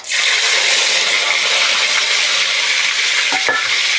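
Sliced onions hit hot oil with a bay leaf already in the pan, bursting into a loud, continuous, close sizzle that holds steady, with a brief stir or scrape near the end.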